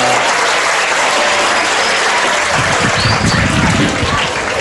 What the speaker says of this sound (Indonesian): Boleh tepuk tangan buat Ustaz Selamat